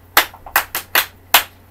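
A class of students clapping for themselves: five sharp, separate claps in an uneven rhythm, close by and fairly loud, with no talking over them.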